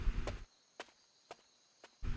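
Footsteps climb stairs at night, three soft, evenly spaced thuds between louder bursts of noise at the start and end.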